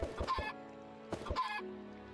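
Chickens in modded Minecraft cluck in two short, close bursts of clipped, squawky calls separated by a brief pause.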